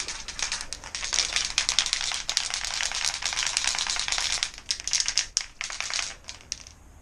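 Spray paint can being shaken before painting a Lamborghini Countach kit car, a close, continuous metallic rattle of the mixing ball, steady and rhythmic throughout with no talking.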